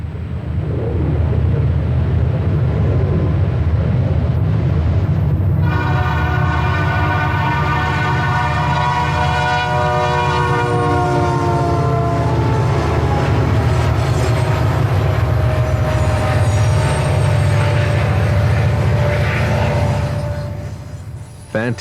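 Southern Pacific leased diesel locomotives rumble past with a deep, continuous engine drone, and a loud multi-tone horn blast begins partway through and sounds on and off to the end.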